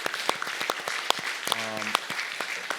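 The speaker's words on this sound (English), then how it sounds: "let's do another round of applause if we can for the movie" An audience claps after a film screening at a press club event, with brisk scattered applause filling the room for a few seconds while a voice speaks briefly over it.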